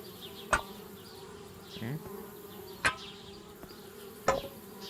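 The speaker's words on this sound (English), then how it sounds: "Darn bees, trying to move into our treehouse." Bees around a hive in a treehouse tree in the adventure game Anna's Quest, a steady low insect drone with three sharp clicks spaced across it, no talking.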